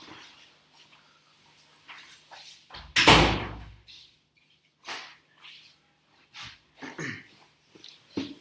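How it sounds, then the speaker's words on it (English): A door is pulled shut with one firm, loud thud partway through, set against a quiet room with faint scattered rustles and small background noises before and after. "I just need to close this door."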